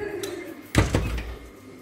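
A door closes with a single solid thunk near the middle, followed by a short rattle, in a small eatery in Limassol, Cyprus, with voices quietly around it.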